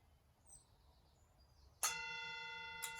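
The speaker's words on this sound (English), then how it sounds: "when the gong goes" A gong is struck once, ringing out sharply with a long sustained tone that lingers to the end, after a quiet stretch with faint bird chirps in a calm yoga setting.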